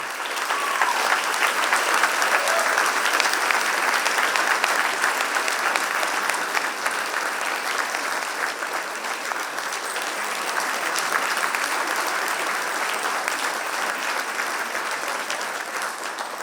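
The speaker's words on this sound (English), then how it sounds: "a huge, warm round of applause" A large audience at the 2025 Sanctuary Wildlife Service Award ceremony bursts into sustained, warm applause, a dense wash of many hands clapping that holds steady and loud throughout, with no talk over it.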